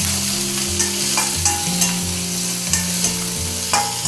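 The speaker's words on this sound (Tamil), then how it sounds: "வெங்காயம், கருவேப்பிலை போட்டு இதை வதக்கிக்கலாம்" Onions and curry leaves sauté in a pan for a Tamil yam fry, a loud continuous sizzle broken by repeated spatula scrapes and stirs at roughly regular intervals, with no talking.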